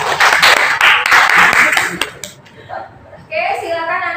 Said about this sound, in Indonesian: Berikan tepuk tangan untuk Zaki ya.